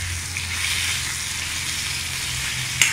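Leafy greens fry in oil in a clay pot for a homemade organic curry, a steady close sizzle with a gentle hiss, no voices, ending in one sharp clink.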